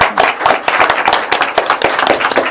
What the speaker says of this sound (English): I think she deserves a Blackstone round of applause.